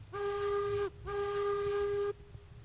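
Two long, steady whistle blasts from a steam train hauling a coal car in the game Railroads Online, the second a little longer, sounding loud over a low engine rumble.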